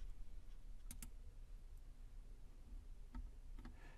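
A computer keyboard key is pressed, giving a few sharp, quiet clicks: a quick double tap near the start and a couple more toward the end, over faint room hiss.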